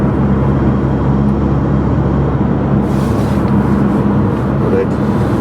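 A car driving on frozen roads on a January commute, with a continuous loud rumble of engine and tyre noise that stays even from start to finish.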